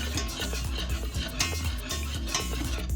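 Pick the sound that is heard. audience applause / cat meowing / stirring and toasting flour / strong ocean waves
stirring and toasting flour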